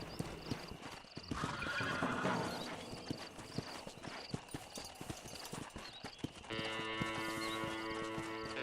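Horses in the video game Red Dead Redemption clip-clop with steady hoofbeats and let out a loud whinny, under a low game soundscape that ends in sustained tonal music.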